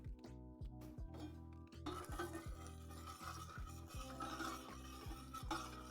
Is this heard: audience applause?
no